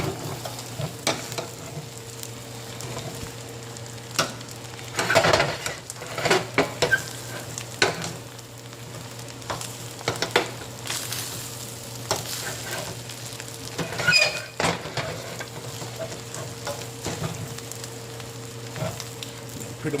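Eggs fry in bacon grease in a pan, a steady soft sizzle and crackle with occasional louder stirring scrapes and clatters, no voices.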